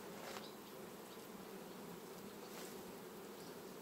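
Honey bees on a hive frame lifted out in September give a dense, close, continuous buzzing hum that stays even throughout, with no talk.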